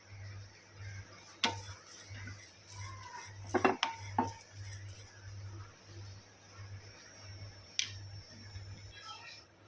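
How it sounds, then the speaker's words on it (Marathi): Washed rice being dry-roasted in a kadhai: sparse metallic clinks and scrapes of a utensil against the pan, quiet and close, over a steady low background hum. "आपण जे धुवून ठेवले होते तांदूळ ते आता छान भाजून घेऊया"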